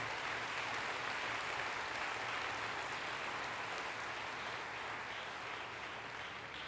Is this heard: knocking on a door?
no